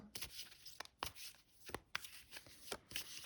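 Tarot cards are shuffled by hand, producing a run of crisp, papery riffling bursts in an irregular rhythm, close and fairly quiet, with no talking.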